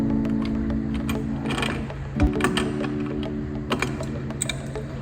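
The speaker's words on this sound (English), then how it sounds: "So the first thing you have to do is unscrew the casing clamp." Metal clicks and a ratcheting rattle come from unscrewing the casing clamp on an Ampco H Series pump, with a steady motor hum underneath and a few sharp knocks, close by.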